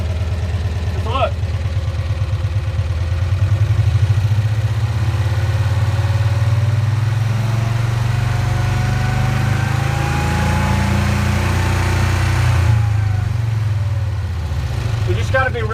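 A 1965 Cushman Truckster utility vehicle's small engine runs steadily after sitting over a year, a loud continuous putter with a brief throttle rise near the end, close by with a voice speaking over it.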